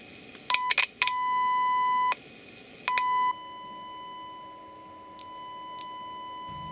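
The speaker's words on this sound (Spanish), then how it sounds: "Podemos probar que este funciona inyectando un tono de 1 kHz con 100 mV aproximadamente" Steady 1 kHz test tone injected into the audio circuit of a General Electric 3-5979 handheld CB radio, sounding as clear beeps that switch on and off, with a short burst at the start and then a longer sustained tone.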